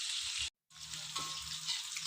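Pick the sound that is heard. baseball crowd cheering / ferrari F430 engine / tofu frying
tofu frying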